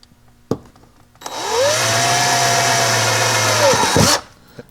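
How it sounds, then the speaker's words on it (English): A power drill fitted with a 1/4-inch bit whines up, holds a steady pitch for a few seconds while boring into an FJ Cruiser dash panel, then winds down, close and loud, with thumps before and after. "1/4-inch drill bit."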